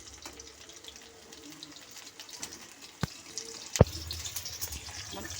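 Chicken pieces frying in hot oil for chilli chicken give a steady, faint sizzle, with a couple of sharp clicks or pops near the end. No one speaks.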